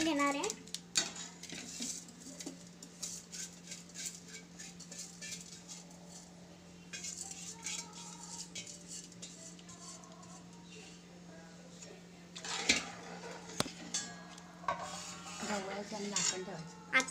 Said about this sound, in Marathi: मी आता ह्याच्यात तांदूळ घेतले आणि आपण आता ढवळून घेणार आहे।